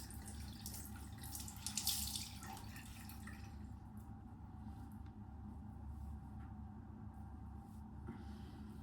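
A tap runs while a hot cloth is rinsed under it, with a brief louder splash early on, then a quiet steady flow and faint drips.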